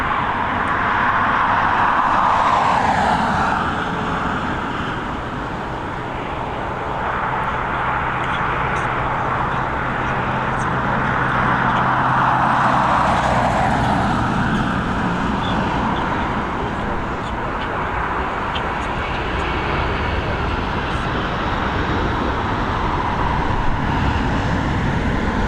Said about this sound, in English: we've got this retro livery A320 operated by Lingus